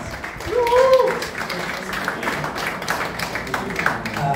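An audience at an art exhibit opening in a gallery hall gives a round of applause, a scattered wash of hand claps carrying on at moderate volume after a brief voice over the room.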